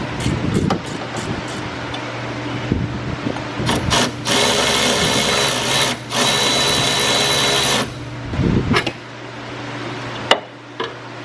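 A power tool whirs in bursts while backing out the last bolt of a car motor mount, a long sustained run in the middle framed by clicks and clanks of tools nearby, no speech.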